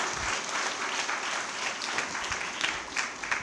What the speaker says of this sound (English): When you clap, that means you talk to me.